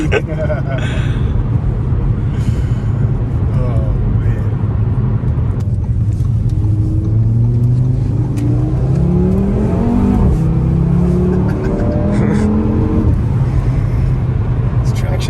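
An Audi RS3 accelerating hard from inside the cabin, its engine note climbing steadily through the gears in a loud, rising roar, with people talking over it.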